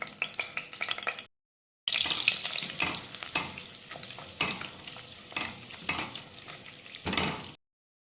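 Oil and butter sizzle and crackle steadily in a hot pot on the stove, with a brief silent gap near the start and another at the end.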